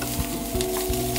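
Rice frying in a pan while being stirred, a loud continuous sizzle with rhythmic scraping strokes of a spatula repeating about every third of a second, close up and without voices.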